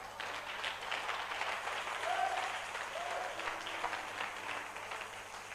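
A church congregation applauding and cheering in praise of the Lord, a steady wash of many hands clapping at mid distance with a few scattered voices rising within it.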